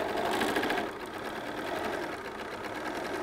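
A sewing machine stitches a quilt seam at high speed, producing a fast, steady mechanical whir that runs close and unbroken, with no talk.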